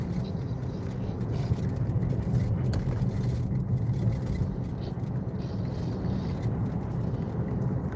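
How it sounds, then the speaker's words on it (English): Car driving, heard from inside as a steady low engine and road rumble that stays constant and fairly close throughout. "I'm driving, so I can't"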